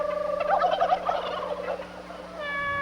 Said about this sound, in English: Who's making all them chicken sounds?